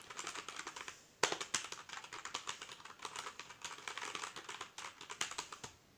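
Rapid typing on a backlit Marvo KG922 keyboard makes a steady stream of close, crisp key clicks with occasional louder strikes, heard alone without speech.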